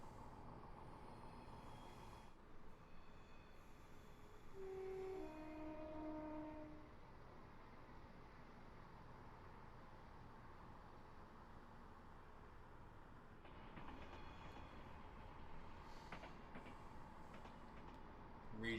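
A passenger train in a train simulator game rolls along the main line on an Edinburgh to Glasgow service, giving a steady, low, continuous rumble with a brief tonal note near the start and no talking.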